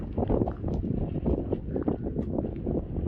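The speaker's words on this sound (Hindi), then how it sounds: "हवा बहुत अच्छी चल रही है।" Strong wind at a high mountain pass about 12,198 feet up buffets the microphone in a continuous low, gusty rumble for a few seconds.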